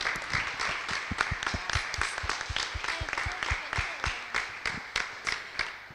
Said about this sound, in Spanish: para ellas les pido un fuerte aplauso